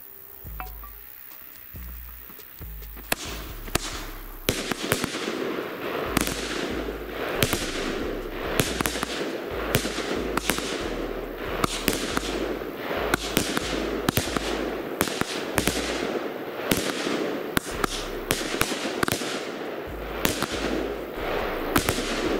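A 36-shot New Year's Eve fireworks battery fires shot after shot in a steady, rapid sequence of sharp bangs and crackles, loud and close, lasting about twenty seconds.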